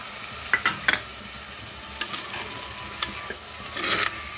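Onion paste and tomato paste fry in a pan with a soft, steady sizzle, broken by a few scraping stirs of a spoon against the metal.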